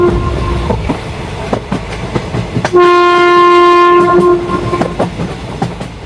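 Cartoon train with steady clickety-clack of wheels on rails, a loud sustained horn blast sounding for about a second in the middle, rolling noise continuing before and after.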